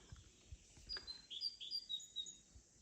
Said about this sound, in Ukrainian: Гарно так пташки співають.